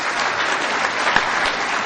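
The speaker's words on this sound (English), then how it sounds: "I guess you're applauding for me going broke" Sustained clapping from a seated audience at an Appalachian regional recovery roundup in Kingsport, Tennessee, a dense even wash of applause with no voices.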